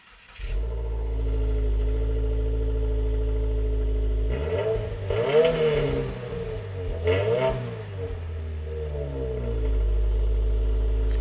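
A Subaru WRX 4-cylinder engine holds a steady, droning idle, then is revved twice, the pitch climbing and falling each time, before settling back to idle, loud and close with no talk.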